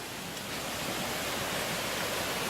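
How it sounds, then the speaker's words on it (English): Small stream rapids along a jungle trek on the Cross Island track in Rarotonga, Cook Islands, a steady broad rush of flowing water, soft and even throughout with no voices. "a few mini rapids, you can call them that."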